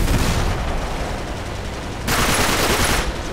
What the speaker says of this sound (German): Wir haben eine Gatling Gun. Maschinengewehr, Granaten.